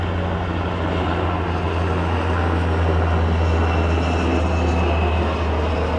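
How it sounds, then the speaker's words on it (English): Army helicopter passing overhead outdoors, a steady, loud, broadband rotor and engine roar with a deep low drone that holds throughout, with no talking. "Oh, look at this Army helicopter."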